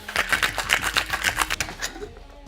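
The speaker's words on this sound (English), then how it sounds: "Get some ice in there. Just give this a quick shake." Cocktail being shaken with ice in a shaker for a baseball-themed sparkling wine drink, a brisk run of rapid, evenly spaced rattling hits lasting about two seconds, then stopping; close and fairly loud, no talking over it.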